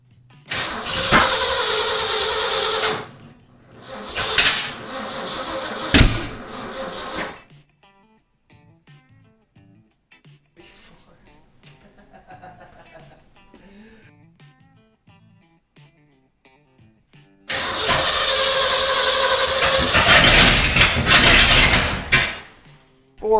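A 1979 Ford F350 engine is cranked after sitting for 15 years, with several loud bursts of cranking, a quiet stretch with faint clicks, then a sustained roar as it catches and runs.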